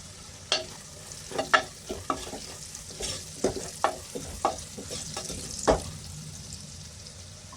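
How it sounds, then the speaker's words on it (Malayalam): Green chili, ginger and garlic sauté in a pan with a soft, steady sizzle, broken by repeated sharp scrapes and clacks of a spoon stirring, close and fairly quiet, with no voices. "വെച്ചിരുന്ന പച്ചമുളക് കൂടി ചേർത്ത് കൊടുത്ത് കൂടെ തന്നെ ഇഞ്ചിയും വെളുത്തുള്ളിയും കൂടെ ഒന്ന് ചേർത്ത് കൊടുത്ത് വഴറ്റിയെടുക്കാം"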